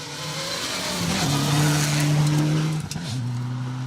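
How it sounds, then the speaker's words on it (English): A Mitsubishi 4WD rally car runs flat out along a gravel stage at the Trackrod Rally Yorkshire, its engine droning loud and steady, then briefly dropping in pitch at a gear change before pulling on. "Looks like a steady run to get that Mitsubishi through to the finish"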